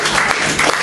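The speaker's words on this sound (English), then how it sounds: "A bit more applause there for Arran Lodge" A brief loud burst of audience applause for poet Arran Lodge at a poetry event, dense clapping heard close for under a second.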